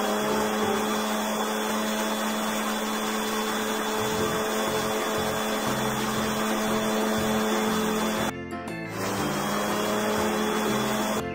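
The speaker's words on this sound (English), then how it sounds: "Take the dryer and dry it." A hair dryer in the kids' video game Fairyland 2 runs as a continuous loud, steady whirring blow, with a brief dip near the end before resuming, and no voices over it.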